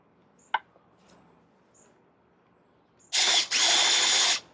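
A power drill bores into wood for a budget greenhouse build, cutting in after a few small clicks with two loud, close bursts of high whirring, the second held for about a second before stopping.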